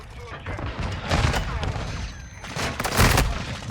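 Video game gunfire from Modern Warfare II, several loud, overlapping bursts of shots rising and falling, with a voice talking over the action.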